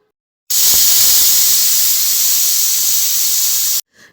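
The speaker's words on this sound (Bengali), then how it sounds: "দুটো সিটি হয়ে গেছে, নামিয়ে রেখেছি" A pressure cooker holding mutton with salt, turmeric and water on a gas stove lets out one loud, continuous hissing whistle lasting about three seconds, then cuts off abruptly.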